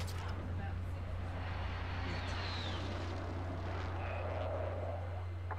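Jet aircraft roaring in for an air strike in a video game, a steady loud engine drone with a whooshing pass overhead and radio voices talking over it.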